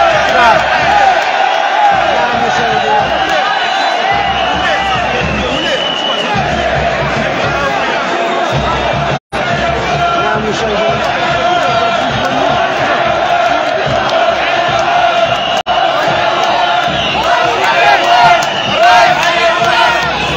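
Excited football supporters packing the stands before the CODM versus Kawkab Marrakech match, a loud, continuous roar of chanting, whooping and shouting that stays dense throughout, with only a brief break near the middle.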